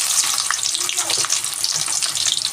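Onions frying in a pan of hot oil with whole spices for chicken biryani, a steady close crackling sizzle with faint clatter, no voices.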